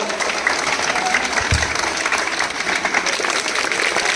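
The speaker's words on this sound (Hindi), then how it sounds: "हाँ, जोरदार तालियों से स्वागत।" Schoolchildren clap loudly to welcome a guest at a Republic Day program at a government school in India, a dense continuous ovation of many small hands, with a brief low thump partway through.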